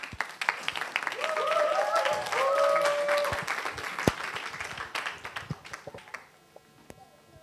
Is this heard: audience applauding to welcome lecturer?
yes